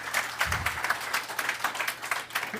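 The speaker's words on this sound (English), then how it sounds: "Give them a round of applause, please." Audience at a veterans-in-tech event applauding panel speakers, a dense, lively round of clapping from a crowd, steady and fairly close throughout with a low thump or two under it.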